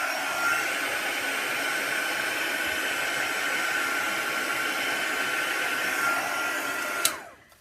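A hair dryer blows a steady, loud, close rush of air to dry fresh Posca pen ink on a mixed-media butterfly doodle, running continuously for about seven seconds before clicking off.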